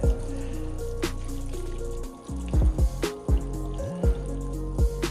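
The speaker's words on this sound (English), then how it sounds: "This is where I soak it." Water poured onto a block of coco chip reptile substrate, with a running stream followed by scattered drips and splashes, fairly close and alone without talk.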